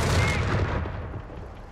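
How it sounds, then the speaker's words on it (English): Heavy mortar barrage in the Company of Heroes 3 strategy game, a loud burst of overlapping explosive booms and rumbling impacts that fades over under two seconds. "Mortar barrage coming in. Oh, the heavy mortar."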